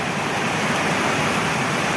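Heavy rain pouring down steadily in a village, a dense, continuous roar of falling water that stays close and loud without a break.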